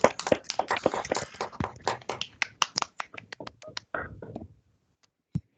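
Unmuted attendees on an online webinar clap through their microphones, a scattered run of sharp, separate hand claps that thins out and stops, with a few last isolated claps after a short pause.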